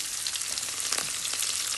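Onions frying in a pan for fried rice, a dense, steady sizzling hiss heard up close with a few slightly louder crackles, and no voices.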